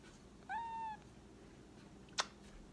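A pet cat gives one clear, rising meow at close range, followed after a pause by a sharp brief click, with quiet room tone throughout.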